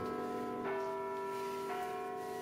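Church bells toll at the opening of a dark, gritty metal album track, two resonant strikes about a second apart ringing over a steady low droning background.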